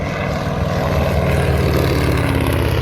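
A Stearman biplane passes overhead at an airfield in Columbia, California, its propeller engine droning loud and steady with a slight pitch shift as it flies by, with no talk over it.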